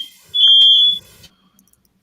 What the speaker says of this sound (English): a either carbon monoxide alarm or a fire alarm